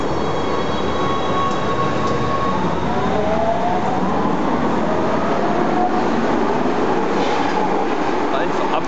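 A Cologne rail vehicle, number 4054, pulls into a station with a steady loud rumble of wheels on track and faint thin squeals rising over the roar.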